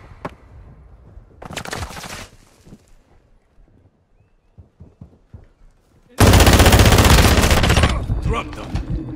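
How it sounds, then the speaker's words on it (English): Call of Duty gunfire comes in two bursts, a shorter rattling volley early on and then a loud, sustained automatic barrage near the end, with scattered shots and faint voices in the quieter gap between. "I'm taking fire."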